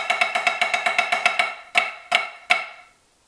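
A snare drum plays fast even sextuplet single strokes, then three spaced, heavier flammed hits ring out and decay. Bright, close and dry, with no talking.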